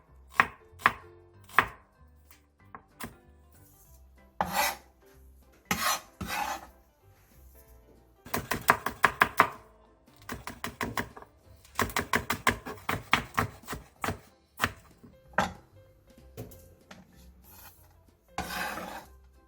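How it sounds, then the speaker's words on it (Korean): A knife chops the white part of a green onion and fresh green and red chili peppers on a board. Quick bursts of sharp, rhythmic taps come close and clear, with short pauses between runs and no talking. "대파 흰 부분 2분의 1개와 청양고추 1개, 홍고추 1개를 쫑쫑 썰어주세요."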